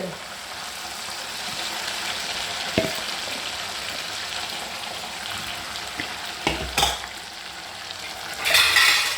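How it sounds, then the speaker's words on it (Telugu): Chicken pieces frying in a pan until golden brown, with a steady close sizzle, occasional spatula scrapes and stirring clatter, and a brief burst of louder spitting near the end. "ఇది కూడా సేమ్ ఈ గోల్డెన్ బ్రౌన్ ఇట్లా వచ్చే వరకు ఫ్రై చేసుకోవాలి."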